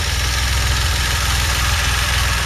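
DeLorean engine idling with a deliberately created vacuum leak at the PCV system, a steady low rumble with an even, unbroken drone and no voices.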